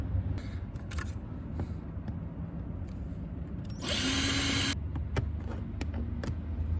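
A screw being driven out of the center console of a Kia Rio with a power drill, one loud, steady whirring burst of roughly a second close by, with faint clicks and handling sounds before and after.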